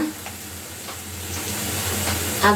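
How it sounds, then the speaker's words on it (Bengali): Ginger paste hits hot oil in a pan where onion and cinnamon are already frying, giving a steady, close sizzle throughout, with a brief louder crackle near the end. "আদা বাটা দিয়ে দিলাম, দিয়ে দিব রসুন বাটা,"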